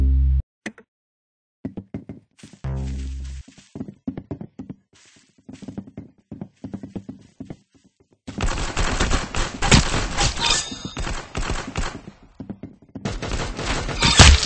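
Gunfire in the Arsenal video game, with a few sharp shots early, then a long run of dense, loud rapid-fire bursts, a pause and another heavy volley near the end.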